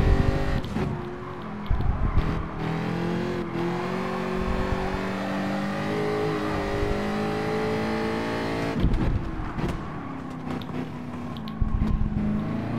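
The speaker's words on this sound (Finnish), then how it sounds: "Kauhean pakoputkan määräis pamauksia kuuluu, jos kuulette." Race car in Gran Turismo 7 lapping Brands Hatch, its engine droning steadily and rising and falling through gear changes, with occasional sharp exhaust pops and crackles.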